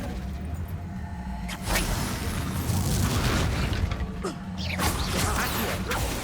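Confringo blasting spell explosions in Hogwarts Legacy, several loud booming bursts with crackling debris and mechanical clanks, repeated across a busy combat stretch.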